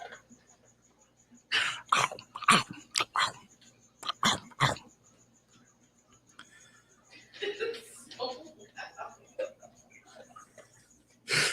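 A dog makes a series of short, close gruff barks and coughing sounds in clusters, with quieter vocal noises and background hum between them.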